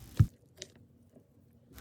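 Thick brownie batter with chopped semi-sweet chocolate being stirred: a soft squishy thud, then a faint wet smack and light stirring noises, quiet and close, with no voices.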